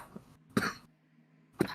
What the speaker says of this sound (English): coughing in the background